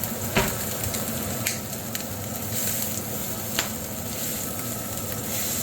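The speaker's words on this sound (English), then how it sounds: "the bacon's making the pan pop" Bacon sizzling in a frying pan as part of homemade chicken fritters. A steady, close crackle carries sharp pops, several of them scattered through it, and there is no talk.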